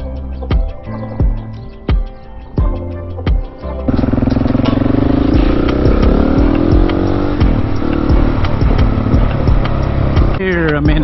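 A 701 motorcycle on a neighborhood road with a leaking valve cover, ridden for a wheelie. A few sharp thumps come before the engine erupts into a loud, sustained close-up roar whose pitch climbs and wavers under hard throttle.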